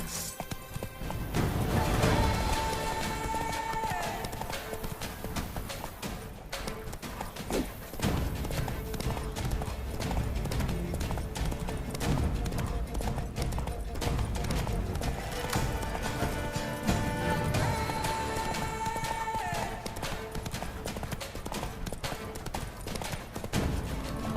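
Roach, the horse in The Witcher 3: Blood and Wine, gallops with loud, rapid, rhythmic hoofbeats that carry on steadily throughout, with brief snorting or whinnying and game ambience around them.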